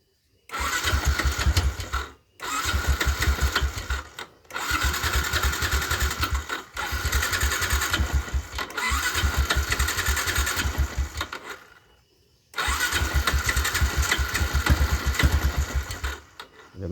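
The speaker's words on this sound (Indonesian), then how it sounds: "Kita coba nyalakan dengan menggunakan electric starter" A Yamaha Jupiter MX motorcycle that will not start has its electric starter cranking in repeated whirring bursts of a few seconds each, separated by short silent pauses, with no catch into running.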